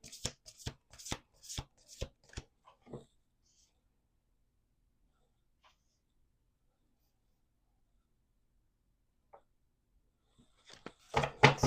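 Playing cards are riffle-shuffled on a table in quick, crisp bursts of flicking clatter over the first few seconds, then a long near-silence, before another sharp burst of shuffling at the very end.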